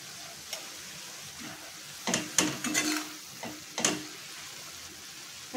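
Cooked leafy greens with fresh coriander are stirred in a pan, giving a soft sizzle with a few scraping, clattering strokes bunched in the middle, close up and without talk.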